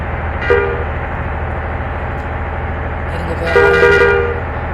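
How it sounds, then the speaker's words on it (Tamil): Two short truck horn toots, one brief and one longer, sound over a constant engine rumble of nearby traffic. "ஹாரன் அடிக்கணும், நல்லா இருக்கு"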